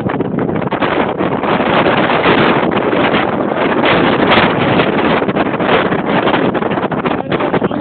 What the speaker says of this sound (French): On a le vent de face, c'est lui.